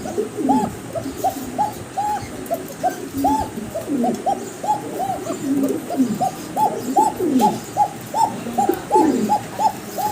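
Repeated pigeon cooing, a steady series of soft rhythmic coos close by, with a faint background hum and no talking.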